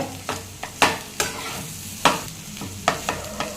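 Goat brain frying on a hot tava while a utensil breaks it up, sharp scraping stirs at irregular intervals over a steady close sizzle.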